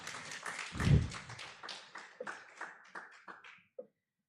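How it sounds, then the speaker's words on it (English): Audience applause for a professor joining a legal tech panel, a short burst of clapping that swells near the start and then thins into scattered claps before fading out. "a big round of applause for Professor as he joins us up here"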